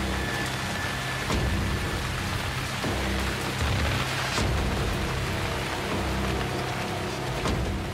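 Monsoon rain pours over Mumbai in a loud, unbroken wash of hiss and patter, with faint low traffic-like rumbles beneath and a few sharper splashes.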